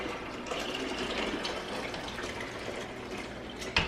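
Water runs steadily from a kitchen tap into a sink, filling it to soak dirty dishes, a soft continuous gushing with a small clink at the end.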